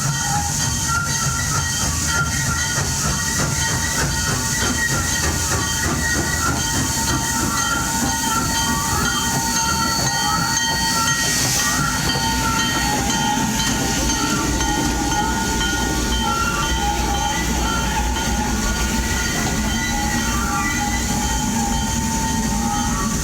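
The Fraser Meadows steam excursion train at Skagway, Alaska, climbing on rails with a steady, loud mix of rolling wheels, clickety-clack, hiss and tonal squeals that runs unbroken throughout with no talk.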